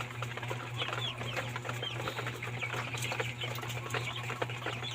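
A flock of 26-day-old broiler chickens clucking and chirping continuously in a poultry house, many overlapping calls over a steady low hum, moderately close, no talking.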